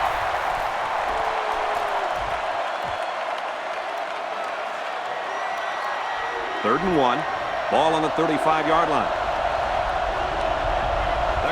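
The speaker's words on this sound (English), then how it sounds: "The crowd is really letting them hear it." Stadium crowd in the video game NCAA Football 09 roars steadily as a broad wash of noise beneath play-by-play commentary, swelling slightly near the end.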